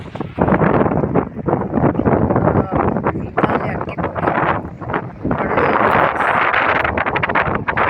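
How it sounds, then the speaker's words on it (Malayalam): Strong gusty wind on top of Malampuzha Dam buffets the microphone in loud, rumbling bursts, mixed with indistinct voices. "കാറ്റുണ്ട്"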